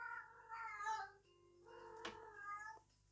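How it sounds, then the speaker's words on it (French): A domestic cat meows twice, drawn-out and whiny calls close by with a short pause between them and a brief clatter near the end. "C'est mon chat."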